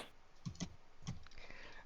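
Faint typing on a computer keyboard during a Dungeons and Dragons session, a few scattered key clicks close to the microphone over quiet room noise.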